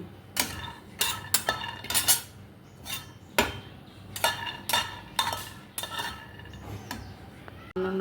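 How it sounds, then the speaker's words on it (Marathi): Peanuts roast in a pan while being stirred, giving a series of sharp, close scrapes and clinks from the spoon against the metal in an irregular rhythm, with quieter gaps between strokes. "प्रथम आपण शेंगदाणे भाजून घेऊया."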